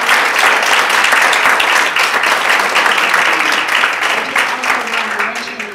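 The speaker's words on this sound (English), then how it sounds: "give them a round of applause" An audience applauds graduates at a ceremony with loud, dense, sustained clapping that tapers off slightly toward the end.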